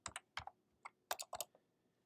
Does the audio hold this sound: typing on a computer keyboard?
yes